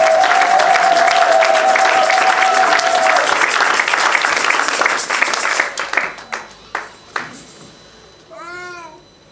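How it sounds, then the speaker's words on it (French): A church congregation applauding, a loud sustained wash of clapping that thins into a few scattered final claps, with a tonal whine early on and a meow-like vocal sound at the end. "Can we honor them by clapping our hands?"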